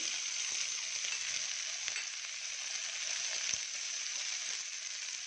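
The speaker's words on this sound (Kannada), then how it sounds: "ಎಲ್ಲ ಹಾಕ್ಬಿಟ್ಟು ಫ್ರೈ ಮಾಡ್ತೀನಿ ಸ್ವಲ್ಪ ಹೊತ್ತು" Ivy gourd and onion fry in a pan for a chutney, giving a constant, hissing sizzle with soft crackles throughout, close and unaccompanied by talk.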